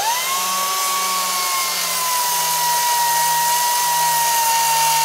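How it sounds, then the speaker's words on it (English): An angle grinder cuts metal off the side of a car strut so it fits, a steady loud whine that holds a sustained high tone for the full few seconds with no pauses and no talking. "I need to grind a little bit off here because it's too wide"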